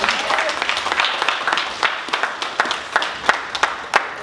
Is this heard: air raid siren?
no